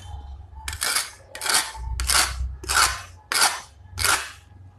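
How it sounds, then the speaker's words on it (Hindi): Six sharp, crisp snapping cracks at a steady pace as sesame brittle (til papdi) is broken, loud and close with no talking. "सुनिए आपने ये मज़ेदार करारी आवाज़ तो आज हम बनाएंगे विंटर स्पेशल तिल पापड़ी"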